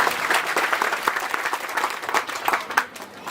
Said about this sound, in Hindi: ताली बजाकर का अभिनंदन करें।